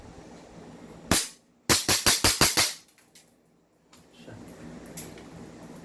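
CZ Shadow 2 non-lethal pistol firing: one sharp shot, then a rapid string of five quick shots, loud and close, followed by quieter handling clicks.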